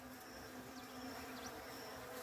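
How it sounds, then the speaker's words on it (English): A bee buzzes steadily and softly nearby, a continuous drone with slight pitch wavers, alone without talk. "That is a bee, you know."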